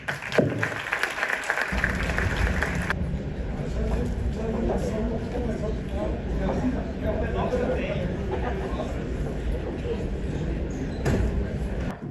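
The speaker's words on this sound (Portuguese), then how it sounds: "Aplausos, por favor." An indoor evening audience claps to welcome a guest joining the panel table, a steady wash of applause mixed with murmured chatter and voices throughout.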